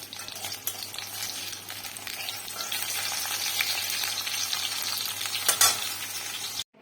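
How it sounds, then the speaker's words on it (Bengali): Fritters of onion, garlic, ginger, cumin powder, cornflour, gram flour, salt and turmeric frying in hot oil, with a steady close crackling sizzle throughout, occasional stirring clinks, then a sudden stop. "আর এখানে ভাজাতে দিয়েছি পেঁয়াজ, রসুন, আদা, একটু জিরে গুঁড়ো, কর্নফ্লাওয়ার, বেসন, নুন, হলুদ দিয়ে ভালো করে মেখেছি এটাকে"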